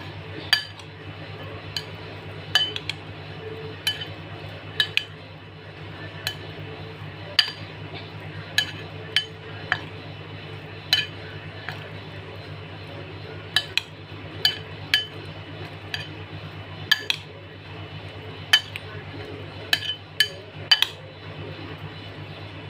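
A spoon clinks against a bowl again and again as red food colouring is stirred in. The bright taps come at an irregular pace over a low steady hum and sound close and fairly quiet.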